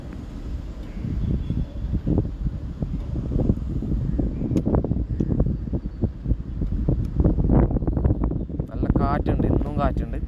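Strong gusts buffet the microphone beside the newly opened NH66 highway stretch at a bend in Kasaragod, rumbling and thumping irregularly while someone talks over it.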